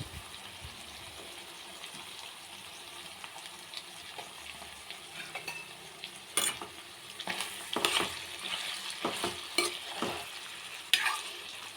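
Bitter gourd pieces with salt and turmeric are stirred and tossed in a pan, giving soft scraping and clicking strokes over a faint hiss, quiet at first and denser later, with no voice.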